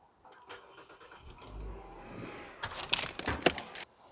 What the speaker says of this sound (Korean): 지금 엔진 소리가 그 동영상 속에 있는 엔진 소리와 굉장히 많이 다를 겁니다